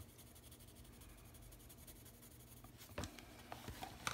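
Colored pencils, Polychromos among them, shade across grainy paper in faint, steady scratching, with a few sharper, louder strokes near the end.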